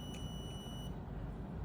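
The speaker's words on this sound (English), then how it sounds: "If no player is detected, buzzer will alert like this." Faint electronic buzzer alarm on a Monopoly-style board game project, sounding when no player token sits on the sensor, with a thin high tone over a low background hum.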